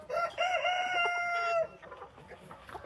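On a poultry farm holding about a thousand heavy, slow-growing chickens and roosters, a rooster lets out one loud, close crow, followed by softer scattered clucking from the flock.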